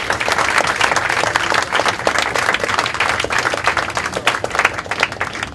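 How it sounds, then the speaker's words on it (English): A party crowd at a birthday celebration claps in a dense, steady round of applause, loud and continuous throughout. "we can give you a big round of applause"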